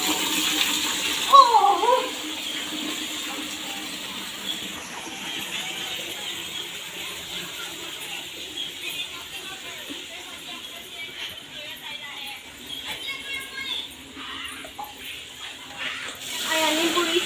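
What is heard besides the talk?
water poured on trees and plants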